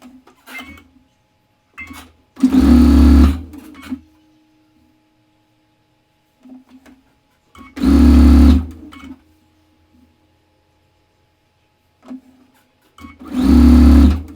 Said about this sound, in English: We're doing as much sewing as we can in each trip to the sewing machine.